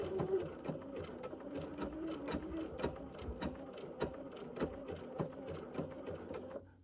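A sewing machine with the needle-down option on stitches around the outside of a small fabric mitten, giving a steady, fairly quiet mechanical whir with regular clicking needle strokes that runs almost the whole time before stopping abruptly.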